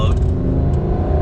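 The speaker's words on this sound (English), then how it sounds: "that V10 gets quite a bit louder, and it is a glorious sound." Lamborghini Huracan Sterrato V10 exhaust in sport mode, a loud, close, deep continuous roar in a short burst.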